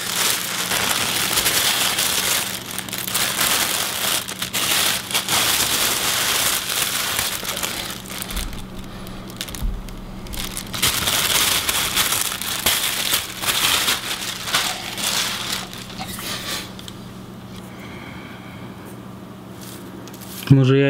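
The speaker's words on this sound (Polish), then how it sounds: "Wysypiemy je tutaj i zobaczymy, co w osypie piszczy." Winter debris from a beehive is poured out, making a continuous dry rustling, crackling patter like fine grit falling. It grows sparse and fades toward the end, with occasional speech around it.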